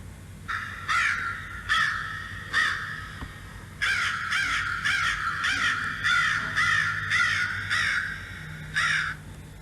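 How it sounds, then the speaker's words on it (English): A crow caws loudly and close, harsh calls repeated in a steady series of single and clustered bursts with no talking. "Yes, it is a crow."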